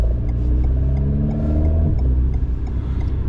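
Alpine A110S sports car engine idling and warming up on a race circuit, a steady close mechanical drone with strong low harmonics, a brief rev change midway, continuous and loud with no talk.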